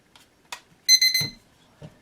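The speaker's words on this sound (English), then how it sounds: "It's going to beep 3 times, and then it's going to go ahead and get itself set up." A quick run of three short electronic beeps from a SMARTRO SC93 wireless weather station powering up sounds close by in a quiet room, with a few soft clicks before and after.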